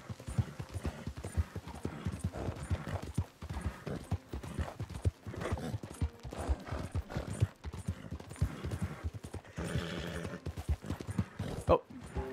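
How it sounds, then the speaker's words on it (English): Horse hooves clip-clop steadily in Red Dead Online, with a brief whinny, set among busy game sounds and someone talking over much of it. "here is somebody with a horse"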